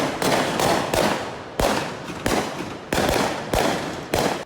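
Fireworks crack and boom in sharp bursts, about six distinct loud blasts spaced roughly half a second to a second apart, each trailing off into a short rumbling echo.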